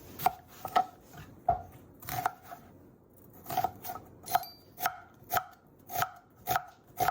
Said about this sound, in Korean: 양파는 그냥 칼질 해야겠다